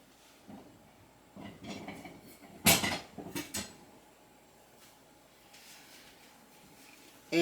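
Kitchen clatter as a knife and plate are fetched for a chocolate cake: a few scattered clinks and knocks, with one sharp ceramic clack and a short burst of rattling mid-way, then quieter rustling.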